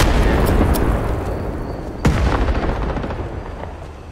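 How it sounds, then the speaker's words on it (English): A claymore mine explodes in the Vietnam war game Rising Storm 2, a sharp close blast landing midway through dense, continuous gunfire and battlefield rumble. "I got someone with a claymore!"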